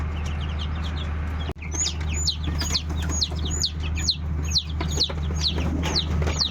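Chickens and chicks in a coop: a steady run of high chirps and peeps with soft clucks beneath, over a constant low hum, broken once by a sharp knock.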